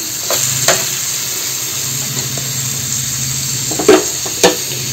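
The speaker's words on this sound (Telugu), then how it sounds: "ఇదిగోండి దోసకాయ పచ్చి ముక్కలు ఇప్పుడు ఇందులో వేసేస్తున్నాను" Raw cucumber pieces hit a hot pan and sizzle in a steady frying hiss, with a few sharp stirring clatters and utensil knocks standing out near the end.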